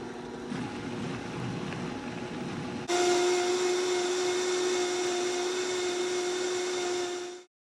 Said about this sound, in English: I'm going to transfer this soup into the blender, and then I'll show you how we blend it all up.